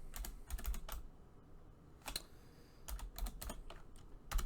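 Typing on a computer keyboard: scattered clusters of quick, crisp key clicks at close range, coming in short irregular bursts with brief pauses between them.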